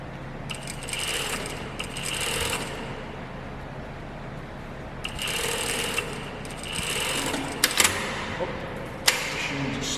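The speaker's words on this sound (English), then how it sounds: "Stretching the elastic and the waistband as I'm sewing on the edges." A sewing machine stitches the edges of an elastic waistband in several short bursts of whirring, with quiet pauses and small handling rubs and clicks in between.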